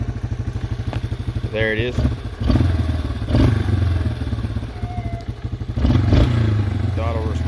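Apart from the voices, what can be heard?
Yamaha Wolverine ATV engine revving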